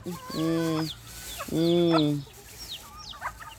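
Chickens cluck up close, with two loud drawn-out calls followed by softer clucks and chirps in the background.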